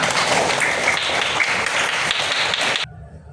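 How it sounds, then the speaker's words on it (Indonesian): A classroom group claps together in a thick, steady burst of applause for nearly three seconds, then it stops abruptly, leaving a quiet room. "tepuk tangan untuk kita semua"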